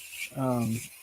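A rotary sanding bit whirs briefly against a toy part, one short buzzing grind of under a second, close and fairly quiet.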